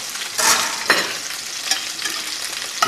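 Meatballs fry in a hot skillet for spaghetti and meatballs, a steady close sizzle broken by scraping bursts as they are stirred and turned, with no talking.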